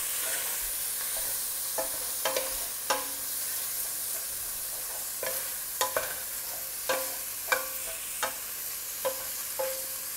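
Chicken fries in a pan for carbonara and is stirred over and over, a low sizzle punctuated by a dozen irregular scraping clinks of a spoon against the pan, close by and without talk.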